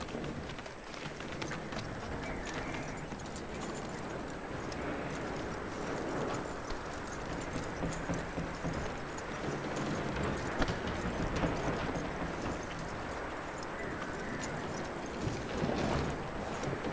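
Steady clip-clop of horse hooves trotting in Red Dead Redemption 2, continuous and moderately close over ambient outdoor noise for the whole stretch.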